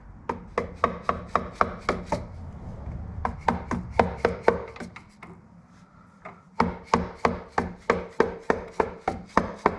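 Sharp mallet taps on the cam cover of a Harley-Davidson Panhead engine during a gasket replacement, struck in quick steady bursts with a brief pause midway, close and fairly loud with no talking.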